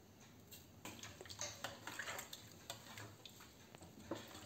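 Fish pieces being mixed by hand or spoon with turmeric, chilli powder, coriander powder and salt in a bowl, soft intermittent clicks and scrapes against the dish, quiet and close with no voices.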